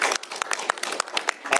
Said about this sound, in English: Give her a round of applause for her hard work on this legislation